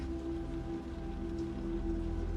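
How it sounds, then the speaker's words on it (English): Steady rain falls, a continuous even patter under a low sustained hum, with no talking. "There is only the rhythm of the rain"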